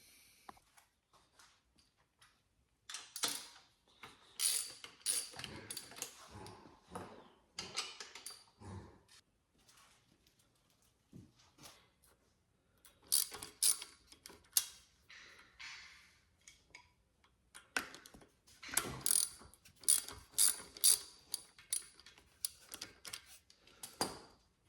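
A ratchet clicks in quick, uneven bursts while undoing bolts on a Honda CRF50 during carburetor removal. The close clicking comes in several clusters with short pauses between them, and there is no talk.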